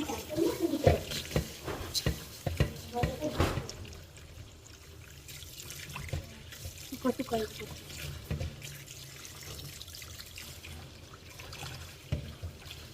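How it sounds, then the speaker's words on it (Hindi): Water pours and trickles onto rice in a bowl to soak it for pulao, with splashy bursts early on, then a softer dribble under a woman's speech. "चावलों को अब मैं भिगो लूँगी पानी डालकर।"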